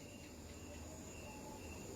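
Crickets chirp in a continuous, even drone that stays faint and unbroken throughout, blended with a steady hiss of ambient noise.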